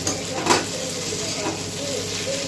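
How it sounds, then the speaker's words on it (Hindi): Potatoes for aloo fry sizzling in a tempering of cumin, asafoetida, dried red chilli, turmeric and salt, a low steady frying hiss with a couple of utensil clinks near the start, close and moderate. "मैं बना रही हूँ आलू फ्राई, मैंने तड़का दिया है आलू फ्राई का"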